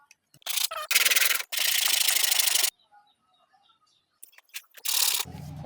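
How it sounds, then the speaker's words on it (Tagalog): Sandpaper rubbing against a flat surface during a guitar bridge repair, in several long, steady back-and-forth bursts, close and fairly loud, with short pauses between strokes. "Dito sa flat surface natin liha."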